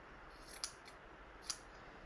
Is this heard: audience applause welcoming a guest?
no